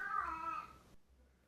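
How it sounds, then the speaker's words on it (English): A house cat lets out one short, faint meow that trails away into quiet. "Oh, that was my cat."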